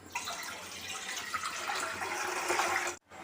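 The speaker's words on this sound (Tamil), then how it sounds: "ஒரு தண்ணி ஊற்றணும்மா" Water pours steadily into a cooking pot while millet porridge is being made, a continuous splashing rush that runs for about three seconds and then cuts off abruptly, with no talking.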